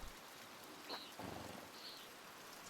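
Rain falling in the video game Pentiment, a faint, steady hiss of rainfall with soft, diffuse drops throughout and no speech.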